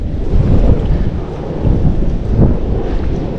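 Strong wind buffets the microphone at a fishpond, a loud low rumbling roar that swells and eases in gusts without pause.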